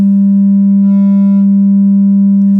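A loud, steady low hum of a single test tone at 33 Hz through a 6th-order subwoofer, at its impedance peak, holds unchanging, with a faint buzzy overtone briefly rising in the middle.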